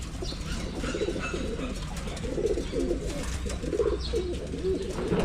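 Pigeons coo repeatedly in low, throaty bursts against a steady outdoor hum, with occasional faint chirps overhead.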